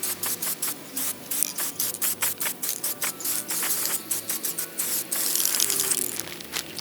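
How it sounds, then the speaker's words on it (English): A can of Rust-Oleum metallic gold spray paint is used on a cat carrier, giving rapid hissing bursts with short rattling pauses, close and fairly loud, no voices. "I'm then going to use this Rust-Oleum metallic to give it a nice gold shiny finish"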